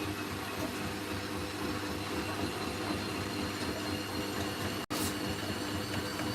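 A Hoover SIX AAA Whisper 1600 washing machine running a late-night wash gives a steady mechanical drone and rumble, with a brief dropout near the end, no voices.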